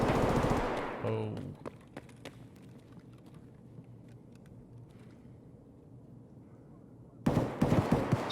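Heavy gunfire in Escape From Tarkov: a dense burst of rapid shots opens, a few sharp cracks follow, then a quiet stretch before another loud rapid volley breaks out close and harsh at the end.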